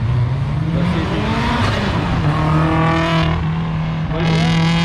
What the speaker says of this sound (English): It's a Subaru Impreza. Oh, Subaru. I should have known by that sound.